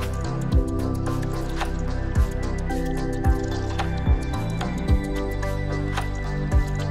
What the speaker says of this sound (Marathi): पंचगंगेचे पाणी इथे या मंदिरात येऊन या गोमुखातून बाहेर पडून पुढे वाहते